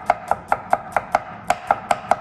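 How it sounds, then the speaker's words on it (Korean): Knife tip cutting through a tortilla on a board, ten crisp, evenly spaced taps in quick succession, close and clear with no talking. "칼끝을 이용해서 끝까지 자르지 마시고 이렇게 잘라주세요"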